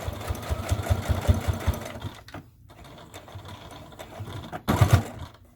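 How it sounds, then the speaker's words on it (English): A sewing machine stitches a diagonal line across the layered webbing of a dog leash, its needle chattering in quick rhythmic bursts with a brief pause midway before a final loud run, close and without talk. "now what we're going to do is sew a diagonal line across to the opposite corner"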